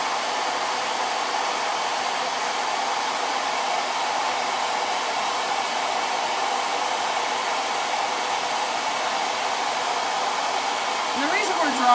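A hair dryer blows hot air over screen-printing paste on a board: a loud, continuous whooshing hum held steady for about twelve seconds, close by, with no talking.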